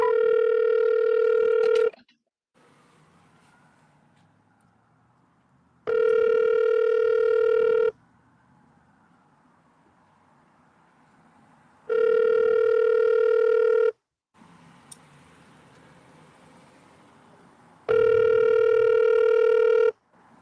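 A phone call rings out on the line, four loud, steady tonal ring bursts of about two seconds each, separated by quiet pauses of roughly four seconds, with faint background hiss between rings.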